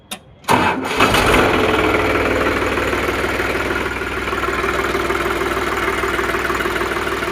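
A diesel tractor engine cranks on its electric self-starter with a brief burst, then catches and settles into a steady, loud, close idle that runs evenly to the end.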